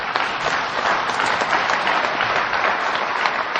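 An audience at an AA speaker meeting in Duluth, Minnesota breaks into steady, close applause that holds at full strength for a few seconds with no talking.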